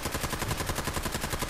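Rapid automatic gunfire from a highly accurate weapon in Fallout 4, a dense, evenly spaced burst of shots that stays loud and unbroken throughout.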